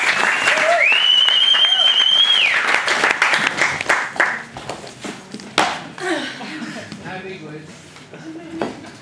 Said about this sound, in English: everyone, give Sarah a huge round of applause.